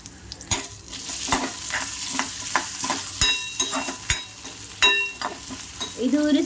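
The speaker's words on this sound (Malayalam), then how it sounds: "ക്യൂബ് ആക്കി വെച്ച ഈ പൊട്ടേറ്റോസ് ഒന്ന് ഫ്രൈ ചെയ്തെടുക്കാൻ വേണ്ടിയിട്ട് ഇതിലേക്ക്" Cubed potatoes frying in hot oil in a pan, a loud close sizzle broken by repeated clacking stirs and scrapes of a utensil, with no talking.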